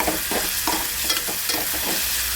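Garam masala roasting and frying in a pan for a spicy fresh rajma bean curry, stirred with a steady rhythmic scraping over a continuous hot sizzle, close and moderately loud with no talking.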